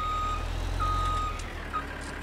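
A Buehrer 6135 A tractor reversing in Farming Simulator 19, its evenly spaced reversing beeps sounding over a steady engine drone, fairly loud and with no talk.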